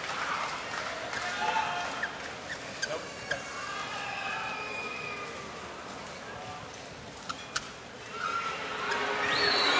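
Badminton crowd in an arena at the 2014 BWF World Championships semi-final, voicing displeasure with rising whistles and jeers under steady crowd noise, with a few sharp peaks and a louder swell near the end.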